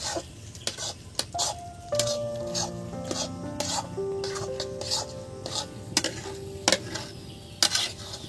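Lote fish fry and are stirred in a pan with continuous sizzling, repeated metallic scrapes and clinks of a utensil on the pan, and a faint tonal background hum.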